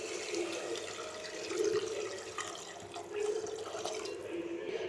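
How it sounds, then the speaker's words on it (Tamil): Water splashes and trickles steadily as it is poured into tomato rice in a pressure cooker, a faint, continuous liquid sound heard close with no talk. "இப்போ இதில் தேவையான அளவு தண்ணி சேர்த்துடலாம்"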